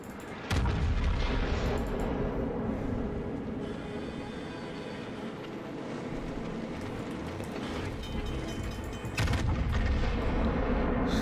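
Warship secondary and main guns fire in a naval video game, a heavy booming barrage that rumbles on and off, loud and continuous, with a fresh burst of blasts near the end.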